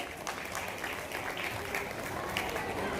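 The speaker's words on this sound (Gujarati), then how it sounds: "રમેશભાઈ આડીસા પંચાવન પોઈન્ટ સડસઠ ટકા સાથે પાંચમો ક્રમાંક પ્રાપ્ત કરે તો જોરદાર તાળી જોઈએ" Applause from the audience at a student award ceremony: a fairly faint, steady patter of many hands clapping throughout, with some voices mixed in underneath.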